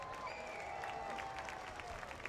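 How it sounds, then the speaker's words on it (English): A crowd at a family fun night race event applauds the race winner from a distance, a faint, steady wash of clapping with a tonal hum running beneath it. "Let's have this big crowd give him a big round of applause"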